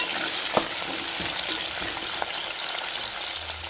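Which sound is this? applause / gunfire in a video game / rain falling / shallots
shallots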